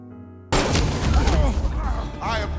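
A gunshot in a film, one sudden loud boom that breaks a quiet, low-pitched start and then rolls into dense, noisy reverberation with other film sounds.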